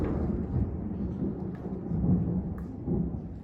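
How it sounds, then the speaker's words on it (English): Low, rolling thunder rumbles continuously through a storm, swelling in waves with a steady dull roar and no voices. "Lots of thunder today."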